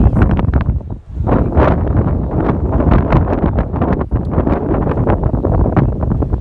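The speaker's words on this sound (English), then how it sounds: "It's so windy out here." Strong, gusty wind buffets the microphone continuously, a loud roaring rush with brief dips, outdoors on the deck of the cruise ship Allure of the Seas on open water.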